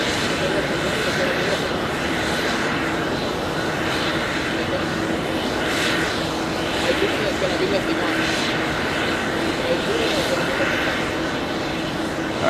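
An Iberia jet airliner takes off from runway 13 right at JFK, a broad, steady engine roar that holds loud and even throughout, with someone commenting over it.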